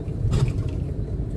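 A car pulling out on a city street in Gujranwala, its low engine rumble close and continuous, with faint road and traffic noise around it.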